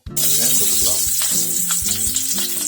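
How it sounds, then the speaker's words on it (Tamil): Onions dropped into hot oil for a beetroot chutney, bursting into a loud, close sizzle that holds steadily, with a few stirring knocks underneath. "ஆயில் நல்லா காஞ்சு வந்துருச்சு. ஒரு 4 வெங்காயம் போட்டுக்கலாம்."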